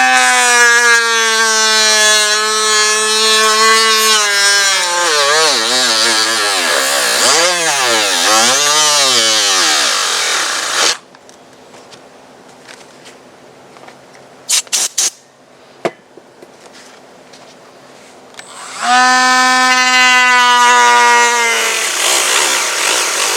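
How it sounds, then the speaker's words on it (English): Dremel rotary cutter with an easy-lock carbon fiber wheel slicing carbon fiber for an RC airliner model, a loud whining howl whose pitch dips and wavers as it bites, then a quiet gap with a few clicks before the whine spins back up. "I go ahead and get my Dremel, my rotary carbon fiber rotary easy lock cutter. And then I go ahead and proceed to cut."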